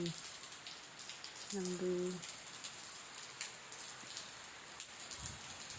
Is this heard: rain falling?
yes